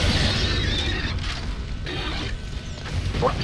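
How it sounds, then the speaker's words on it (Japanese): Grenade launch and blast in the shooter game Resistance: Fall of Man, heard as heavy booming explosions with mechanical clanks and rumbling debris, loud and dense throughout, with no voice over it. "グレネード撃とう。"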